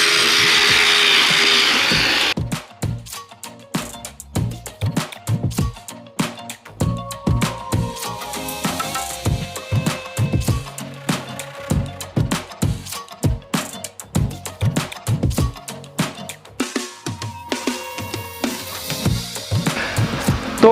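A battery-operated brush cutter trimmer whines steadily at first, then cuts in and out in rapid irregular bursts as it chops through vegetation out in a field.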